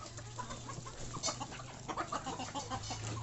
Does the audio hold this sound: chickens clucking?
yes